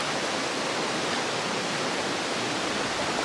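A river stream flows at a camping spot in a steady, dense rushing wash, close and constant throughout, with no voices or other sounds standing out.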